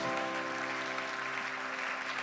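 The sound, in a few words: church congregation applauding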